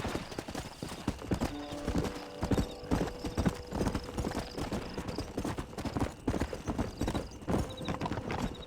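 Hooves clip-clop in an uneven, rapid rhythm in the video game Red Dead Redemption, close and clear, with a horse's whinny breaking through partway.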